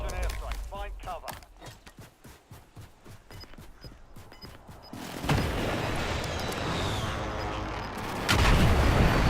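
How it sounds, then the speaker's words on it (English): Enemy precision airstrike explosions in Call of Duty Warzone: a dense, loud rumbling barrage swells at the halfway point and builds to a heavier blast near the end, after a stretch of sharp gunfire-like cracks under a speaking voice. "Enemy precision airstrike. Find cover."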